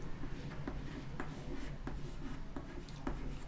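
Pen writing on paper while numbers are noted down, a series of soft scratchy strokes and taps at an irregular pace, close and quiet, with no talking.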